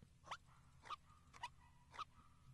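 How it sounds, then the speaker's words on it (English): Four short, regularly spaced dog barks from a character in the video game Seasons After Fall, thin and game-like, over a low steady ambient background. "All I know how to do is bark."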